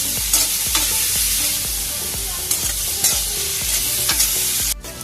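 Tomatoes are stirred and mashed in a cooking pot for sinigang na lapu-lapu sa miso: repeated scraping knocks of a utensil against the pot at a loose rhythm over a constant sizzling fry.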